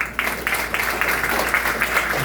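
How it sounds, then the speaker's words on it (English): An audience applauds the speakers at a question-and-answer event, producing dense, steady clapping that carries evenly throughout without any talk over it. "round of applause for"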